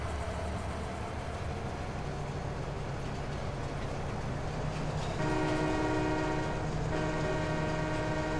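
Train in the video game Farming Simulator 22 rolling along with a steady low rumble, then a loud sustained horn blast joining midway and continuing to the end.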